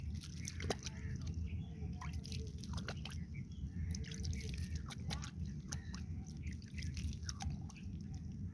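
Water runs and drips as hands coated in sticky jackfruit latex are rinsed, with irregular splashes and patters close by and a voice briefly in the background.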